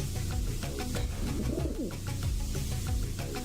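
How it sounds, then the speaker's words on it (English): Pigeon cooing in the video game Deus Ex, a soft repeated warbling coo heard clearly over a busy, dense game soundscape with steady background tones. "I've heard a pigeon already in this game"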